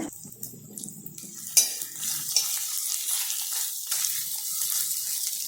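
Onions and curry leaves frying in a pan for sambar, heard as a soft sizzle with clinks of a utensil against the pan and scattered stirring scrapes, close by and without speech.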